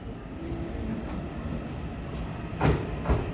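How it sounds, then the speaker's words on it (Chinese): A ten-car EMU900 electric multiple unit pulls into a station platform with a steady rolling rumble, and two heavier clunks sound near the end. "今天要进站的是8:42开往树林区间列车"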